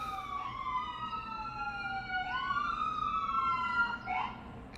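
A loud emergency vehicle siren wails steadily, its piercing tone rising and falling in repeated sweeps that stay close and dominant throughout.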